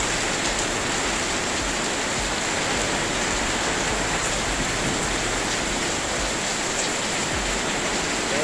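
Heavy rain pours down steadily and loudly, a dense, unbroken roar of water throughout with no pauses or voices.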